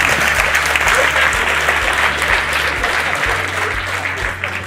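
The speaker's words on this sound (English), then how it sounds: "Round of applause." A PyCon conference audience applauds steadily for the full stretch, dense and loud, with a low rhythmic hum and thumping underneath.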